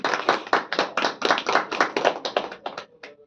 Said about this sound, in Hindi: ताली बजा के हम सब उनका अभिनंदन करेंगे